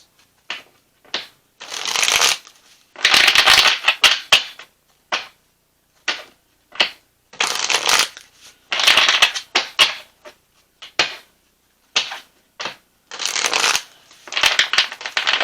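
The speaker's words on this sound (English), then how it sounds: "As I'm shuffling this deck, I keep my cards in pristine condition." Repeated riffle bursts of a deck of tarot cards being shuffled, crisp papery flutters in irregular clusters separated by short pauses, close and clear with no talking.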